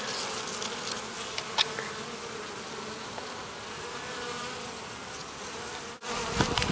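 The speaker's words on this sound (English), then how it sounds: "I want to move all the bees off." Honey bees buzz steadily around an open hive during a colony with laying workers, a dense continuous hum with a brief dropout near the end.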